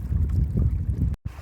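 Sailing kayak moving across open water among the Broken Islands, a loud rushing blend of wind buffeting and water wash close by, with a brief dropout near the end.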